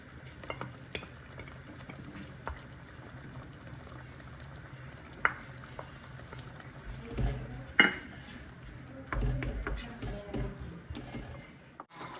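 Paneer bhurji with cream is stirred in a pan, a spoon scraping and clinking against metal over a soft frying sizzle, with sharper knocks toward the end and faint voices in the background.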